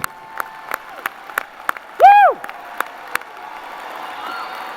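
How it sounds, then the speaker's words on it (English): At a spring commencement ceremony, scattered individual claps ring out at intervals across a quiet hall, and one loud rising-and-falling whoop or whistle cuts through near the middle. "Now join me in a round of applause for the graduates."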